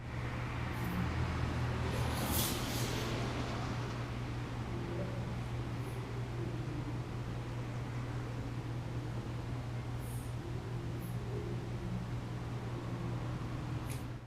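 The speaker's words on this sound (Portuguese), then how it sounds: "O carro passando" Quiet room ambience with a fan running as a steady low hum, while a car passes outside, a faint broad swell of road noise early on; occasional faint distant sounds, no talking.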